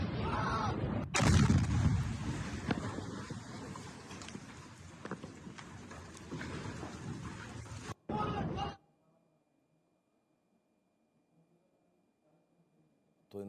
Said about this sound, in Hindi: एक बार इस धमाके की आवाज हम अपने दर्शकों को सुनाएंगे